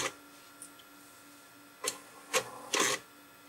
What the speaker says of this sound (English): Now we hear the printer.